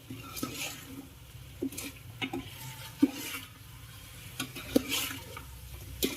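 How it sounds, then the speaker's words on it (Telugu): Quiet, intermittent scraping and light clinks as a spoon stirs maida flour into a mixture in a bowl for chicken curry, with a few sharper taps against the side. "కొంచెంసేపు గిన్నెలో మైదా గిట్ల కలపాలి"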